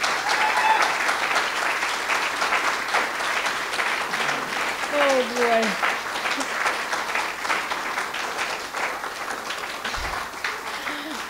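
Sustained audience applause fills a spoken word poetry event, loud and steady throughout, with a brief spoken exclamation and some voices over the clapping.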